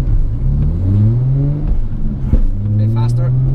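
Nissan 350Z engine revving and rising in pitch while drifting at a track driving experience, with a loud continuous tone broken by a brief dip before climbing again, mixed with faint background voices.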